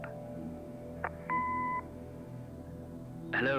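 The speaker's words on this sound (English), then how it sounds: "Leave a message after the beep." A single steady electronic answering-machine beep sounds in the Kathy Rain video game, about half a second long and clear, after a short recorded greeting and followed by a quiet pause.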